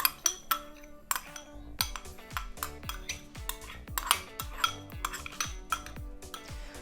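A utensil scraping and clinking against a bowl while onions are mixed into a zucchini fritter batter, a quick, uneven series of sharp metallic taps and clatters, close and without talk.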